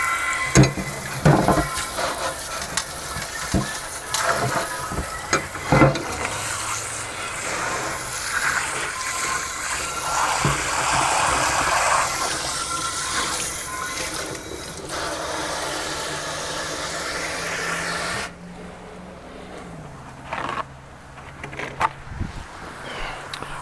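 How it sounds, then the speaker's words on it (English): Running water rinses out a container for reuse, a steady gushing, splashing wash close by that shifts in tone partway through before cutting off near the end, with no talking. "Let me rinse this out real quick so that way I can reuse it."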